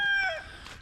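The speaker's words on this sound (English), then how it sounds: "Chickens are happy." Backyard homestead chickens vocalize in a short, fairly close call with rising harmonic tones, fading quickly into quiet outdoor ambience.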